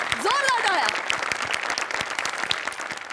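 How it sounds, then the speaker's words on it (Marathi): Studio audience applause at a Marathi comedy show, a dense wash of clapping heard close, with a voice gliding up and down in a playful melodic call over the first second. "जोरदार टाळ्या."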